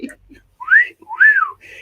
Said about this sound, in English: so I had to whistle at him